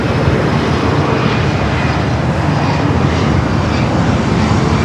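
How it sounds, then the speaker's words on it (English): A loud, continuous jet roar fills the air as an airplane takes off from runway 24 Left at Los Angeles International Airport, a dense, steady rumble with no voices over it. "Looking forward to seeing Yankee Taggy take off"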